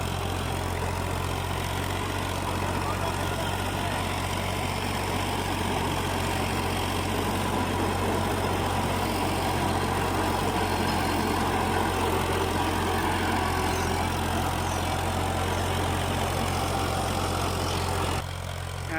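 A tractor engine idles steadily with a 42-cutter rotavator attached, a continuous low, even rumble throughout that cuts off sharply near the end.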